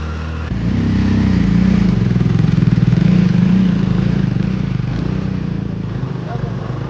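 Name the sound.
scooter riding on rough mountain road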